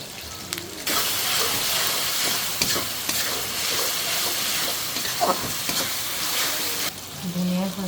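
Chili, cumin and nut pastes with fried onion paste and mutton being sautéed in a pan, a loud steady sizzle with scraping stirs, starting abruptly and cutting out near the end.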